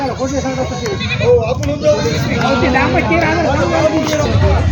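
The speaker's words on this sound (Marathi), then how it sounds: "गावरान शेळी मित्रांनो पाहू शकता शेळ्या" Goats bleating at a village goat market in Vasmat, several animals calling repeatedly and loudly near and farther off over a murmur of people talking.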